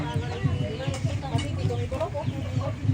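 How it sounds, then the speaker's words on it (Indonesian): Chickens cluck steadily at close range among voices and bustle at a Toraja village gathering preparing for a church building consecration, the calls repeating in short irregular bursts. "Oh, manok pala ito."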